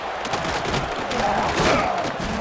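A stadium crowd roars steadily in EA Sports College Football 26 during a North Carolina game, a dense, continuous swell of cheering that rises slightly toward the end.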